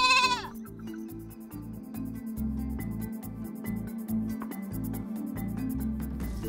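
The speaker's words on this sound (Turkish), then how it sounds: "yavru bir keçi" A young goat in Niger bleats repeatedly in wavering, nasal cries, close and clear, with an opening high note and steady calls throughout, no talk over it.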